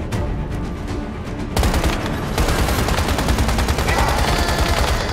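Gunfire from a creature in the video game Once Human, a dense burst of rapid shots that swells about a third of the way in and keeps up loud and continuous to the end.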